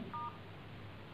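A single short pair of phone keypad tones sounds while a code is dialed on a mobile phone. The beep is brief and clear against a quiet background, with no speech.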